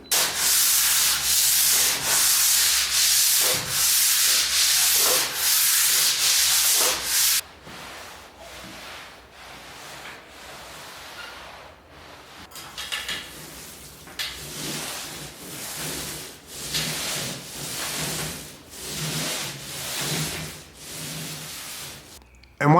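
A sander rubs steadily over a repaired water-damaged ceiling, first in loud rhythmic strokes, then in quieter, uneven passes after a brief pause.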